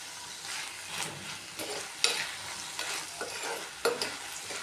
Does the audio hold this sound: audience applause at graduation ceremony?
no